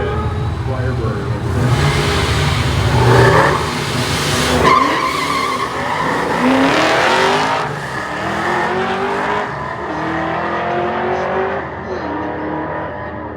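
Second-generation Pontiac Firebird driving at Irwindale Speedway, engine revving and rising in pitch through repeated accelerations with tire squeal and skidding, loud and close, while a voice talks over parts of it.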